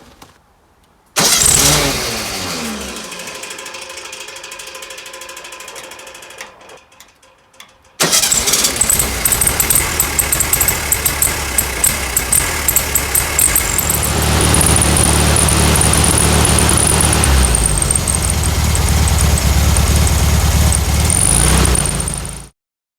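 A 1969 Volkswagen Beetle engine, freshly fitted with a replacement carburetor and run without its air cleaner, cranks briefly and stalls, then fires and runs steadily at a loud, close idle with a rough, lumpy note.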